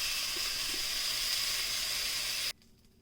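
Meat for birria tacos sears in a hot pan with a steady close sizzling hiss that stops abruptly near the end.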